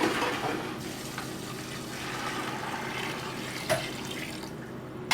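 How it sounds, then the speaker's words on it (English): Water poured into a clean pail of sultana raisins, a steady, close splashing and rushing flow lasting several seconds, with a couple of brief louder splashes near the end. "We cover them with water."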